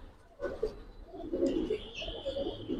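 A trimmed-feather breeder pigeon at a loft gives several low throaty coos in a row, close by, over faint background noise.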